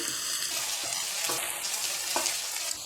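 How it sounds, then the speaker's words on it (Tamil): Onions with curry leaves and ginger-garlic paste sizzle and crackle in a hot pan for ivy gourd gravy, steady frying noise, stirred now and then with soft scraping, close and moderately loud. "இஞ்சி பூண்டு பேஸ்ட்டு போட்டு வெங்காயம் போட்டு நல்லா வதக்கிடுங்க"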